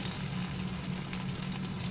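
A short burst of steady sizzling as bitter gourd pakoras fry in hot oil, a soft even crackle with a low hum beneath.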